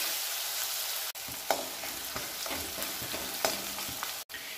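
Onions fry in a pan for a mushroom curry, a steady close sizzle broken by scraping stirs and spoon knocks throughout, with no voices.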